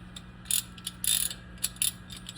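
A socket ratchet clicks in short quick bursts while loosening a kitchen faucet nut under the sink, crisp ratcheting close by and separated by brief pauses, with no voices.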